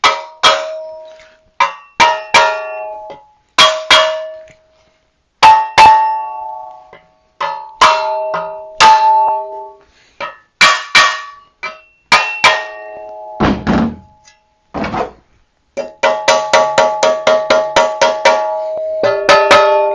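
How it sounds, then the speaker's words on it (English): Metal tapping rings out on a 1984 Schwinn Predator bike frame under repair: loud, bell-like clanks come in bursts of single strikes and quick runs, then end in a fast, rapid series of ringing hits, with no talking. "I'm tapping the frame."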